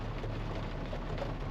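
Rain falls on a new car during a drive on a wet day. It makes a steady, dense hiss with a low rumble, close and even from start to end, and no one speaks.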